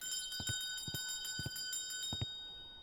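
A bell rings in the virtual reality game Rumble VR. Several evenly spaced pairs of bright metallic strikes over about three seconds give a steady ringing rhythm, moderately loud and with no talk.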